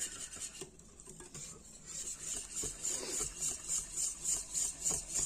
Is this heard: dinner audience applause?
no